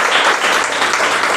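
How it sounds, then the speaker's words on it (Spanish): A church congregation breaks into loud, dense applause, a steady wash of many hands clapping together at close range. "¿Cuántos pueden darle un fuerte aplauso al Señor?"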